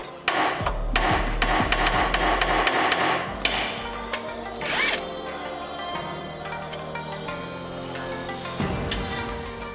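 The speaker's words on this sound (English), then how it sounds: "Hammer down the ball joint by hitting the nut." Hammer blows on the tie rod nut of a Citroen C3 to free the ball joint: a series of loud, sharp metallic strikes close by, coming in quick bursts with short pauses, then a few scattered hits and some clinking of tools.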